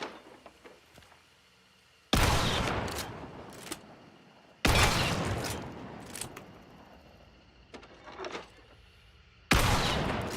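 Three loud, booming shotgun blasts fired from the hip in Hunt: Showdown, spaced a few seconds apart, each with a sharp broadband crack and long decaying tail, plus faint game ambience and small clicks between shots.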